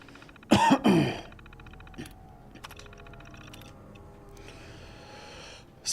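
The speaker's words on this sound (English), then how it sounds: "Trying to clear my throat over here." Short burst of throat clearing from a gamer mid-session, loud and near for about half a second, followed by quieter light clicks and faint game sounds.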